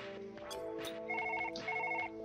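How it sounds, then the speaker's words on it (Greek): Electronic telephone ringing in the Surgeon Simulator video game, a repeated trilling ring in two short bursts over background game sounds. "Κάποιος με καλεί."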